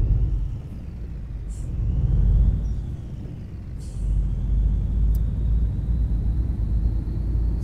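A Scania truck with an Argentine-style mod in Euro Truck Simulator 2 pulls out of a lot, its steady low engine rumble and road drone running continuously, with a few faint hiss-like air brake releases near the start.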